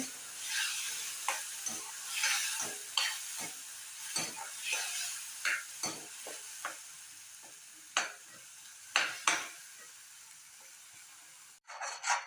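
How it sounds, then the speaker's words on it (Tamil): Tomato and onion paste sautés for mushroom gravy, a soft continuous sizzle punctuated by frequent scraping stirs against the pan, fairly quiet and close. "இப்போ தக்காளி வெங்காயம் இதெல்லாம் பேஸ்ட்லாம் நல்லா வதங்கிடுச்சு"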